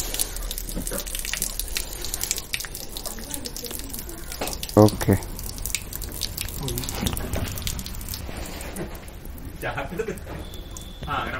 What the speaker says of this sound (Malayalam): ടാപ്പിൽ ഓൾറെഡി ലോഡായിരിക്കുന്ന വെള്ളം നമ്മൾ ഡ്രെയിൻ ചെയ്യാൻ പോവാണ്.